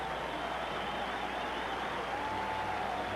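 Steady applause and cheering from a large baseball crowd, around 32,000 fans at a 1992 Red Sox versus White Sox game, rolling on continuously as a distant, even wash of sound.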